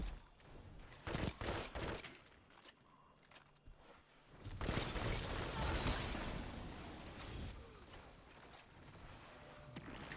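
Machine gun fire from a pulse-rifle-style shooter game, dense bursts of rapid shots that swell louder and more continuous in the second half, with mechanical clatter and no talking.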